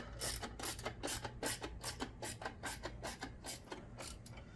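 Ratchet wrench snugging intake manifold bolts on a 1998 Lincoln Town Car, about a dozen quick, evenly spaced clicks, close and fairly quiet over a low engine-bay hum.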